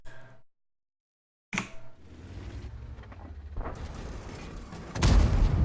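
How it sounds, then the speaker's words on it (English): A tank in World of Tanks fires a high-explosive shell. After a short silence comes a sharp boom, then a rumbling roll, and a second heavy blast hits near the end. "Now he's shooting HE at you."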